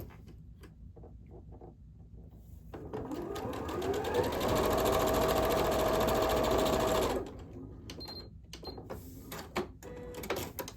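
A sewing machine runs in one steady burst of rapid stitching for several seconds while piecing a flying geese quilt block and chewing up a fabric corner, starting and stopping abruptly, with quieter handling noises before and after.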